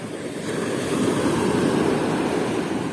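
Rough sea surf rolls onto a pebble beach in a continuous, loud wash of waves with wind buffeting the microphone.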